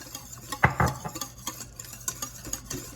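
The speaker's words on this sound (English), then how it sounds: "Okay, so I am whisking, continually whisking." A whisk working gravy made from pan juices inside an Instant Pot, producing close, irregular metallic clinks and scrapes against the inner pot, with a couple of sharper knocks early on.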